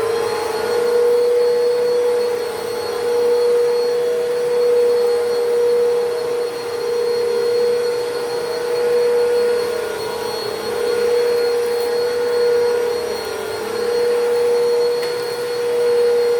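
A Bissell vacuum cleaner runs on carpet with a steady, loud motor whine and a constant airy roar, slight swells in level throughout, with no voices.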